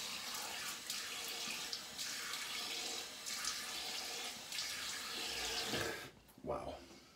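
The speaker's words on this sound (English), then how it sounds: "Bit of cold rinse." A tap runs steadily with cold water for a shaving rinse, a continuous splashing stream broken by a few brief changes as hands move through it, then cut off near the end with a short rustle.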